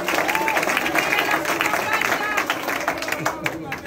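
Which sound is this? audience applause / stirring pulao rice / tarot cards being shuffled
audience applause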